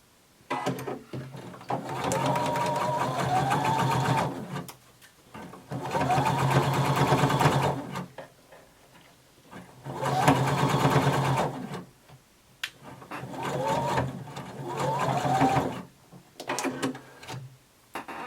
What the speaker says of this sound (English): And now we're going to sew across the sides of our band.